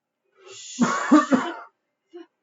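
A voice imitates a short fit of harsh, raspy coughing, a few choppy bursts close up, followed by a faint brief sound after a pause.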